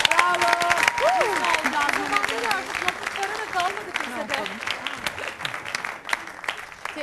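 Studio audience applauds on a Turkish Star TV entertainment show, steady crowd clapping throughout, with a presenter's voice and some musical tones rising over it.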